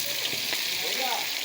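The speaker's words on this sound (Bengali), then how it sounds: "পেঁয়াজটা একটু লাল করে ভেজে নেব" Chopped onions frying in hot oil for a light mutton and potato curry, a dense close sizzle lasting just over a second, with faint scraping under it.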